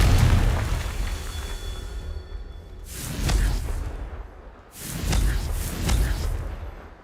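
Two booming blasts from the Confringo explosion spell in a magic video game, each a deep rumbling burst with a whooshing tail, a couple of seconds apart, with no talking.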